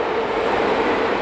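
Moscow metro train at Vorobyovy Gory station, which sits directly above the Moskva River: a continuous dense rumbling roar of rolling train noise, loud and steady, no voices.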